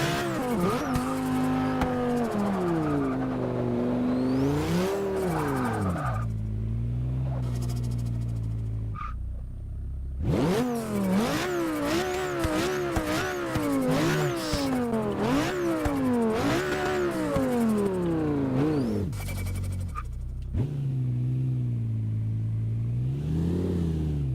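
BMW M5 engine in Forza Motorsport 6 climbs through repeated revving runs and upshifts, loud and close, with brief drops between pulls and tire noise.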